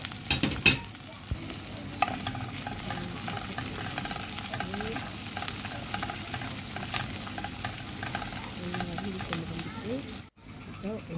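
Curry leaves, fennel seeds and chili powder sauté in a pan for a Jaffna-style dried anchovy curry, a steady close sizzle with occasional stirring scrapes, continuous until a brief pause near the end.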